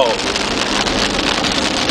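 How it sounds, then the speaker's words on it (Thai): Heavy rain pours steadily on a mountain road climbing toward Phu Thap Boek in Thailand, a dense, continuous broadband hiss that fills the whole clip at close range with no letup. "แย่แล้วครับ ฝนตกแล้ว"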